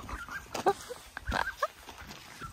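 A dog gives a few short, high whines and whimpers, close by and fairly quiet. They come in small clusters over a low background rumble during a mountain cycling trip in Taiwan.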